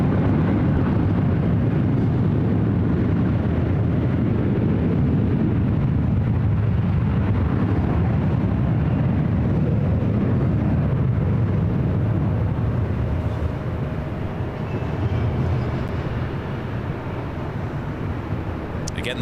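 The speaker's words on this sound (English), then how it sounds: "that is the A330 Neo with Delta heading to London Heathrow" A Delta Airbus A330neo jet airliner at LAX gives a loud, steady broadband engine roar that holds for the whole stretch and eases slightly toward the end.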